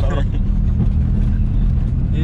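A Peugeot 106 engine idles with a low, rough rattling rumble inside the car on a country outing, while voices talk over it.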